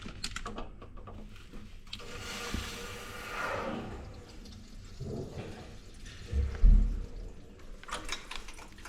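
Water gushes from a leaking radiator pipe above a newly laid solid floor, with uneven gurgling surges, a louder rush midway and mechanical clunks and knocks around it.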